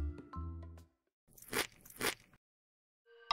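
Cucumber slices are bitten close to the microphone, giving two crisp, wet crunches in quick succession, with short tonal music cues before and after.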